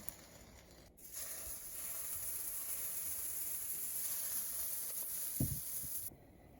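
Blueberry pancakes sizzle in a pan with a steady, soft hiss that holds for several seconds. A dull knock sounds near the end, and then the hiss stops abruptly.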